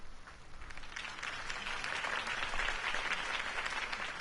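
A crowd in the Batman Telltale video game breaks into steady, sustained applause that swells and holds, heard from a moderate distance with faint voices mixed in.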